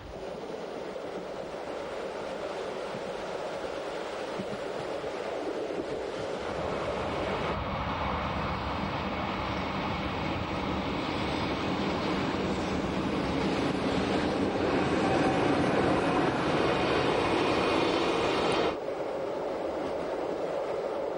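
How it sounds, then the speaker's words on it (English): Glacier Express train rumbling steadily across the 152-metre iron girder Hinterrhein viaduct, a continuous loud rolling rail noise with clatter that shifts in tone partway through and eases slightly near the end, no voices. "The train passes for the second time over the 152-meter-long iron girder Hinterrhein viaduct."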